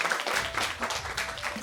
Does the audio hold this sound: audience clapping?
yes